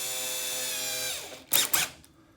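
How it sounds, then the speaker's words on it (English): Power drill driving screws into a Team Associated B74 RC car, a steady high motor whine that winds down, followed by two short ratcheting bursts close up. "Using the last two 45s. I'm gonna pop that in my drill."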